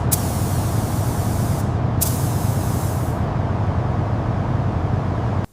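Paint spray from a spray gun hisses loudly and steadily while coating a Ferrari body in Kalahari Bronze, with a continuous broad rush and two brief sharper bursts, cutting off abruptly at the end.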